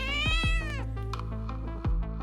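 A cat gives a loud, close meow with a falling pitch, followed by a second shorter meow after a brief pause.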